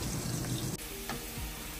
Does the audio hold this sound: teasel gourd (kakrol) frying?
yes